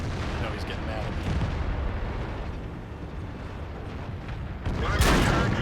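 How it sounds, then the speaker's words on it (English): Tank cannon fire and shell hits in the video game World of Tanks, a dense rumbling barrage of booms and impacts sustained throughout, with a heavier blast near the end. "One of our turrets is damaged. Enemy armor is hit. IS-3 punched me good."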